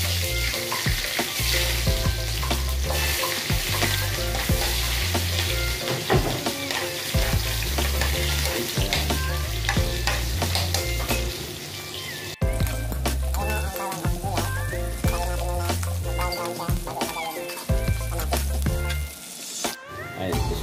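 Garlic and onion sautéing together in a pan for a kangkong dish, a steady close sizzle with intermittent stirring scrapes running throughout, over a low rhythmic thumping in the background, with no talking.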